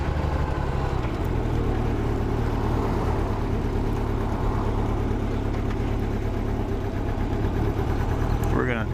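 A 1987 Honda Goldwing 1200 Interstate idles as it warms up, a low, even engine rumble that runs without a break.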